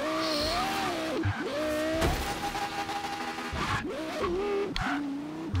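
A Lexus LFA in a video game lifts into a wheelie, its engine revving loud and close, pitch sweeping up and down with brief drops between rises, tire noise underneath.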